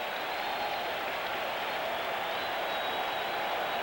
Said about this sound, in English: this capacity crowd brought to its feet by George Foster